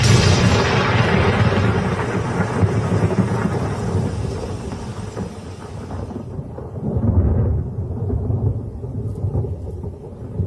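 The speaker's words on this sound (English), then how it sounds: "thunderstorms break overhead" Deep rolling thunder rumbles through steady rain in the Okavango, with a heavy crash early on and another low rumble swelling later.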